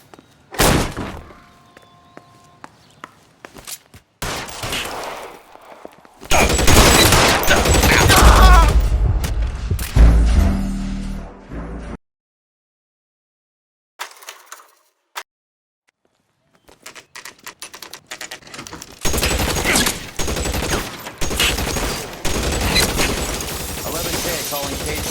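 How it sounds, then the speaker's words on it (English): Gunfire erupts in a police shootout in the video game L.A. Noire, with loud bursts of shots and heavy thuds in two dense stretches separated by a short silence, mixed with voices. "Shots fired and officers need help at 1452 North Las Palmas"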